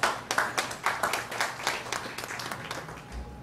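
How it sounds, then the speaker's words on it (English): Audience applause at a morning breakfast forum, a room of hands clapping steadily and fairly close for a few seconds, thinning out toward the end with no voices over it. "Let's give him a big round of applause."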